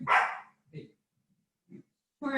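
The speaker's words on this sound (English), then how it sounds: "my alarm dog has to let you know that she is home now" A dog indoors at home lets out a sharp close bark, followed by a few softer, shorter woofs spaced out with silence between them.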